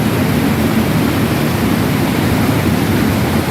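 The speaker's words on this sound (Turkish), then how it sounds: "Kasım Antalya Manavgat Şelalesi." Manavgat waterfall in Antalya, a wide, spring-fed cascade, roars as a loud, steady, broadband rush of falling water that fills the whole scene without pause.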